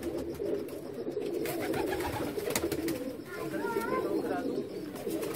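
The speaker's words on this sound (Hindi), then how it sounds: "ये सामने ये मोतियों वाला कबूतर बैठा हुआ है" Pigeons, including a pearl-marked bird, coo softly on a rooftop loft among the flock, a low murmuring under steady background noise and nearby talk.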